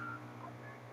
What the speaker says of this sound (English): I just had my phone make a warning noise here.